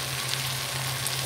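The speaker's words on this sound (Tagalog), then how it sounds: "Add our chicken and mix" Chicken pieces hitting a hot pot and being stirred while cooking pochero, a steady, close sizzle of frying with a low constant hum underneath, no talking.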